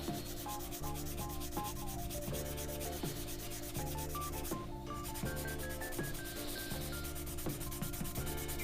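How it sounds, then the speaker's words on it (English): A Hot Wheels 67 GTO die-cast body is hand sanded with a fine sanding stick of about 800 grit, giving soft, repeated rubbing strokes beneath steady background music, with no talking. "I always use these sanding sticks because it's a lot easier."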